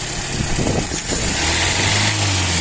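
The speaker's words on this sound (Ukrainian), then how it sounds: "Після перегазовки повертається на стабільний холостий хід" A 1.3-litre VAZ 2108/2109 car engine fitted with a rebuilt Solex carburetor settles from a rev back into a steady idle, a loud close rumble with a sustained low hum.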